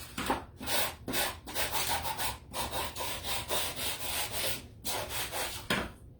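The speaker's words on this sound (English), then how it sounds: "try to use these old sanding blocks I have. Just kind of sand them down a little bit so they don't look so freshly painted." Old sanding blocks rub back and forth over a painted wooden sleigh in steady, rhythmic strokes, close and continuous with brief pauses between passes.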